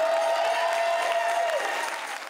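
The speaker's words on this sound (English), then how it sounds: "the crowd broke into applause, giving the chief two standing ovations" An audience at a community event in Homewood, Pittsburgh, claps for the city's police chief. The applause is full and sustained at first, with a voice briefly audible over it, then thins and fades.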